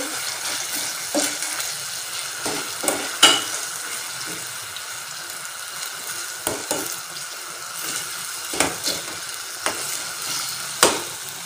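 A chicken macaroni mixture sizzles gently in a pan over a medium flame. It is stirred with repeated scraping taps of a spoon against the pan, close by and with no talking.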